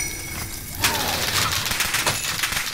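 Incoming gunfire rounds in Call of Duty Modern Warfare, sharp cracking impacts and shattering hits over steady background game noise, with a couple of loud bursts close by.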